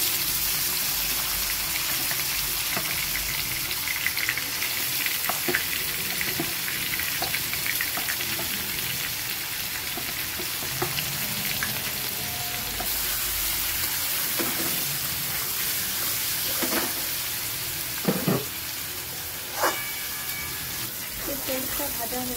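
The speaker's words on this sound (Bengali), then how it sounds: "ইঁচড়গুলো ভালো করে ভেজে নেব তেলে।" Pieces of tender boiled green jackfruit fry in hot oil for a prawn curry, a steady close sizzle and crackle running throughout, with scattered kitchen clinks and a voice now and then.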